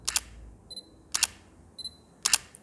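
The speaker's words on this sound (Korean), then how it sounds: "셔터 소리라는 게 사실 사람마다 호불호가 좀 있는 부분이라서" Sony A7C camera shutter firing three times at even intervals, each release a crisp close double click, with faint high electronic tones between shots.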